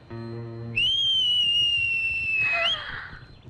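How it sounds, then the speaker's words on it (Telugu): A person whistles a single sustained, fairly loud note that holds steady for about two seconds and then rises briefly at the end. Before it comes a short low tonal sound. "నువ్వే కదా విజిల్ వేసింది"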